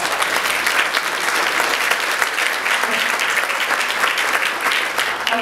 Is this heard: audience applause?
yes